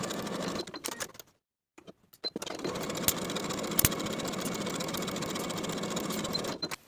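A sewing machine stitches a seam and buttonhole on a vintage 1960s Simplicity 9466 step-in dress, running in a steady, close whirring buzz that pauses briefly and then resumes.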